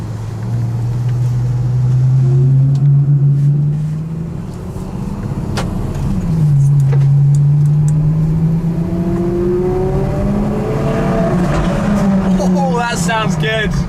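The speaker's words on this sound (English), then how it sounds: "I think the Aperta is going to be driven out and we can see it out on the road" A Ferrari LaFerrari Aperta is driven out of Fiorano onto the road, its engine note rising and falling through repeated sweeping revs as the car accelerates. The sound is close and steady, with road and wind noise underneath.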